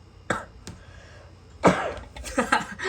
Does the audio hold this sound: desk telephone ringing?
no